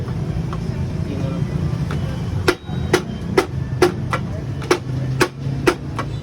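Metal hammer blows pound at a stuck side part on a vehicle, about a dozen sharp strikes in an irregular rhythm over a steady low rumble of background noise.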